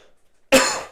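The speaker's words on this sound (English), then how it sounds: "Why am I coughing?" A single sharp cough bursts out after half a second of near silence, loud and close, trailing off over the next few tenths of a second with no talking.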